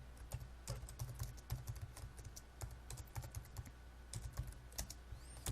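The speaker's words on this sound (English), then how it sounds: "let's type some stuff here" Quick, uneven run of key presses on a computer keyboard, close and steady for several seconds, with small pauses between bursts of keystrokes and no talking.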